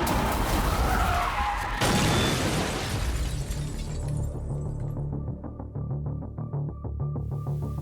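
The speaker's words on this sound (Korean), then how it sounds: "갑자기 맞은편 차선에서 대형 트럭 한 대가 맹렬히 돌진합니다" A large truck charges head-on from the opposite lane of a national road, its tires skidding in a loud, harsh screech of roaring noise that fades into a lower, rhythmic engine-like rumble.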